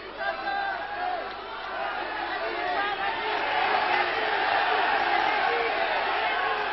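A wrestling crowd roars and chatters throughout, a dense, swelling wash of cheering voices growing louder toward the end, heard at a distance through an old, band-limited recording.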